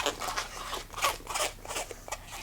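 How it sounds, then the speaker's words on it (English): Several quick snipping cuts of scissors through a twisted balloon, close and quiet, in an uneven rhythm of crisp crunchy clips. "We can take our scissors, hold on to the twist"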